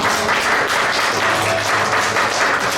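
Congregation applause at a Korean church Sunday service in Logan, welcoming first-time attendees: steady, dense clapping from a large group, sustained at even volume throughout with no talk over it.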